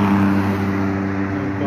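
Steady traffic roar from a busy, free-flowing toll road in Jakarta, a continuous close engine and tyre hum with a voice talking over it.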